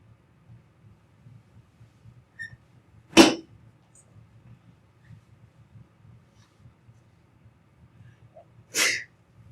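Two sharp sneezes, one early and one near the end, cutting through a quiet low hum during an algebra class.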